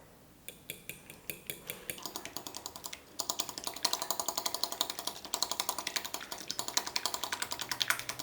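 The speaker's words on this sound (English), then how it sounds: "Now we mix them with a fork." A fork rapidly clinks against a bowl while beating eggs with salt, pepper and sugar, producing a fast, steady rhythm of bright taps that speeds up after a few slow strokes, close and without talk.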